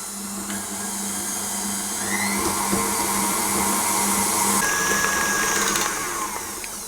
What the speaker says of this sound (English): our lemon zest, sugar and eggs into the mixer with 113 grams of softened butter